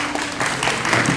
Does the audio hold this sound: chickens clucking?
no